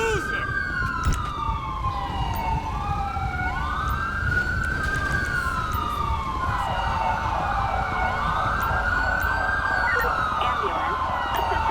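Wailing ambulance siren in a GTA V police mod, rising and falling in long sweeping tones that hold loud and steady throughout, layered over traffic rumble and scattered game noise.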